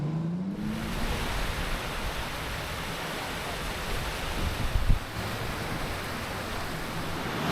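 Waves washing ashore on a quiet Thai beach on the way from Krabi to Koh Phangan, a steady broadband surf roar with some wind buffeting the microphone and a brief louder swell near the end.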